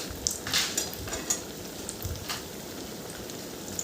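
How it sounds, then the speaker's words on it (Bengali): Banana flower koftas dipped in gram flour batter fry in mustard oil in a pan, giving a steady, moderate crackle and sizzle with a few sharper pops. "এই দেখুন, ভাজা হচ্ছে। একদম লাল লাল করে একটু ভেজে তুলে নেব সমস্ত কোপ্তাগুলো।"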